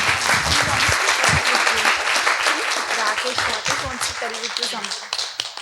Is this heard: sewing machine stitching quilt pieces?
no